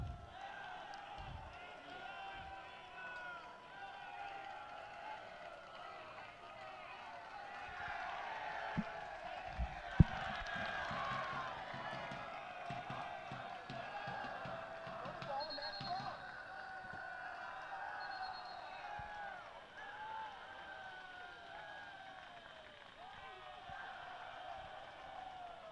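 SLUH fans clapping without pause in the stands at a high school soccer game against Chaminade, a steady rhythmic crowd clap heard at a distance beneath close commentary, with a few sharp thuds from the field.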